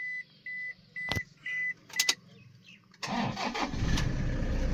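A diesel Toyota Innova, 2012/13 model, cranks and starts: a few short starter bursts and beeps, then the engine catches and settles into a loud, steady rumble close by.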